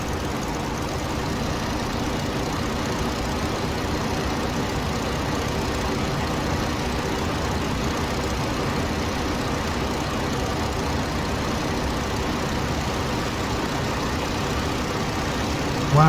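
A WWI-era plane engine in the Rise of Flight flight game drones steadily and loudly throughout at reduced throttle, a constant low rumble with a faint rattle and no breaks.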